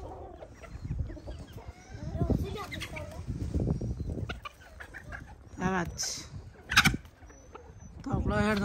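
Chickens cluck and squawk close by, with a few sharp calls, while a person speaks briefly among them.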